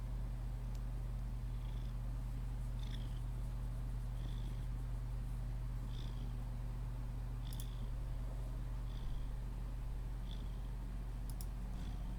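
A lazy house cat purrs in a continuous low rumble close by, steady and unbroken from start to finish, with faint soft ticks or chirps recurring above it.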